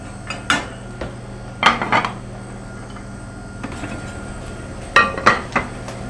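Pots and pans clatter and clink in a kitchen while bread is being baked, sharp metallic knocks in a few separate bursts over a steady low hum, close and moderately loud, with no talking.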